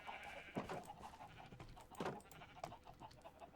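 Minecraft sheep of many colours on a farm bleat several times, short quavering calls spaced irregularly over quiet background noise.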